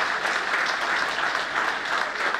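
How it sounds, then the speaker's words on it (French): A crowd at a Côte d'Ivoire awards ceremony claps loudly and continuously for the country's president, a thick, even roar of applause with no pauses. "que je vous demande d'applaudir très fort"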